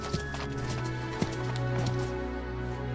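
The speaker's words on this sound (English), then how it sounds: "Someone! A horse!" In the Dynasty Warriors battle game, horse hooves clop steadily beneath a sustained low drone and battlefield ambience, broken by a couple of sharp thumps.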